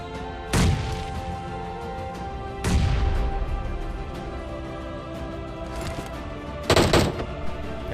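Gunfire and a grenade in a battle royale video game, heard as four sharp loud bursts spread across the moment, each decaying quickly against a quiet background.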